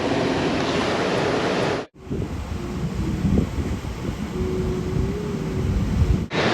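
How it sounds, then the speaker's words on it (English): Big ocean waves break on a Costa Rica beach, a steady loud roar of surf with wind buffeting the microphone, cut by a brief dropout near the start and end. "we've got the beach behind us, big waves"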